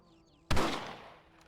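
One sharp rifle shot in Red Dead Redemption, a sudden close blast that decays quickly with a brief echoing tail, following a quiet, faintly tonal background.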